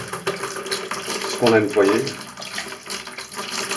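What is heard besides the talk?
water rinsing a toilet cistern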